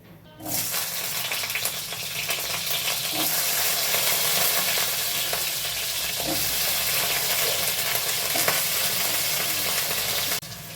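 Potatoes sliding into hot oil with nigella seeds in a kadai, bursting into a loud, dense, steady sizzle that holds at close range for about ten seconds, with faint stirring scrapes. No one speaks.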